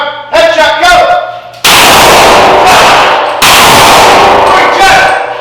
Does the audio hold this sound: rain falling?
no